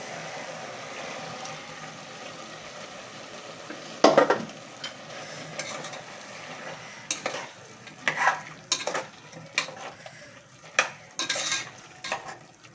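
A ground paste of coriander, mint, ginger, garlic and green chilies is stirred into chicken frying in a pan. A soft steady sizzle runs throughout, broken by repeated metal scrapes and clinks from the stirring, which grow busier toward the end.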